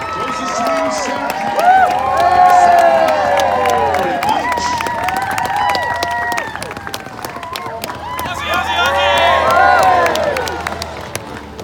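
A crowd cheers and claps steadily for arriving sports teams, including Team Australia and a team from Poland, outdoors on a drizzly day, with an announcer's voice and shouting mixed through the continuous loud applause.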